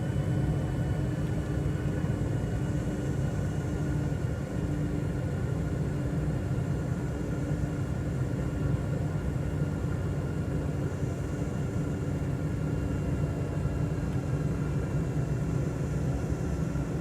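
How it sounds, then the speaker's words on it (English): Airplane engine in a flight simulator video game, a constant broadband rumbling drone that holds steady and fairly loud throughout with no breaks. "so I can slow down the plane"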